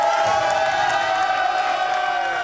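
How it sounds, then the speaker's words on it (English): A crowd cheers and whoops for a team at a student science award show, a steady dense roar of many voices that holds loud and unbroken throughout. "we got people in the crowd cheering for a team"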